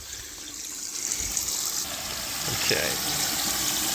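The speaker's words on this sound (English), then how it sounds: "Heaps of water though coming across." Water from a backyard gold-sluicing setup runs steadily across a sluice mat with a soft, continuous trickling wash that swells a little toward the end, and someone says a single word partway through.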